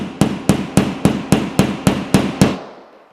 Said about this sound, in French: frappez sur la tête du collier pour faire rentrer la cheville dans le perçage